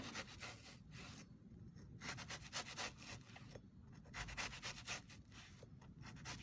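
A knife slices through a shallot on a cutting board in quiet, repeated rubbing and scraping strokes, soft and close with an uneven rhythm.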